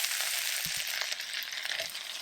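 Butter melting with flour cooking in a soup pot for New England clam chowder, a continuous bright frying hiss with a few soft stirring clicks beneath it; no voices.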